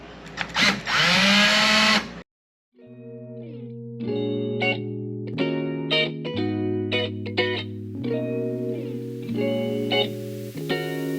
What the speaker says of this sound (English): So I like to use a drill them out, and then should come right out.